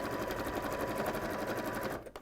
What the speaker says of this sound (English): just allowing the machine to work its magic really and feed the bag through the machine